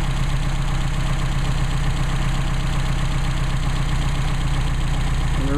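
A Mercedes 190SL engine runs on Solex carburetors during tuning, a loud, close, steady idle with an even pulsing throb and no pause, unaccompanied by any voice.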